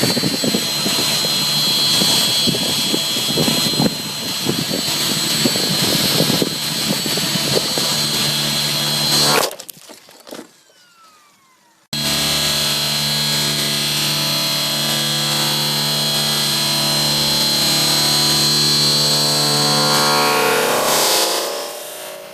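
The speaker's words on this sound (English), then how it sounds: "This T-Rex 600E Pro RC helicopter flies too close to the ground inverted" A T-Rex 600E Pro RC helicopter flies inverted near the ground, its rotor and motor giving a loud, sustained high whine. The whine cuts out abruptly to near silence, then a similar steady whine resumes.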